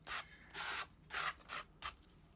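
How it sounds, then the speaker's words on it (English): Cloth wiping paint off a junk art piece: four short, breathy rubbing strokes in an uneven rhythm, close and fairly quiet, with brief pauses between them and no talk. "kind of wipe it in there in random spots, wiping a lot of it completely off"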